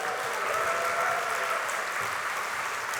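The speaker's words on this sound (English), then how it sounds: "Let's give a big cheer for being here together at this conference" A conference audience at the CSUN ATC 2026 keynote cheers and applauds in a dense, steady wash of clapping that lasts throughout, with no voices rising above it.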